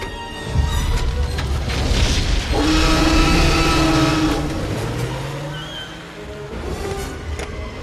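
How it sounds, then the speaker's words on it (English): A car engine starts and revs in a Jurassic Park film scene, a low rumble that builds into a loud roaring rev mid-clip, then eases off with a rising whine near the end. "Start the engine."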